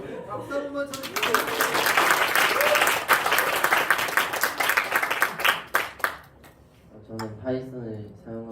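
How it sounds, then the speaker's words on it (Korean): Applause breaks out at an academic conference on sports AI and big data after a student presentation, a dense, loud burst of clapping that fades away, with a speaker talking before and after it. "박수 한번 쳐주세요."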